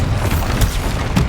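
A Bombarda spell explosion in Hogwarts Legacy, heard as a brief, loud, deep boom with a rumbling low body that fills the whole moment.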